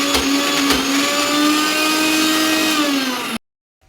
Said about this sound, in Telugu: మెత్తగా మిక్సీ పట్టుకోవాలి